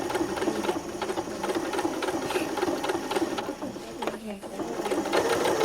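A sewing machine stitches darts on fabric with a close, steady rapid needle clatter running almost continuously, dipping briefly once before picking up again, while a voice speaks over it.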